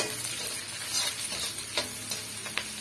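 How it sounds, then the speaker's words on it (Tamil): Rava roasting in a pan over a medium flame, a soft steady sizzle broken by occasional scraping stirs and light clicks of the spoon. "மிதமான தீயில நல்லா வந்து வறுத்து எடுத்துக்கலாம் இடையிடையே இந்த மாதிரி கிளறி கொடுத்துக்குங்க"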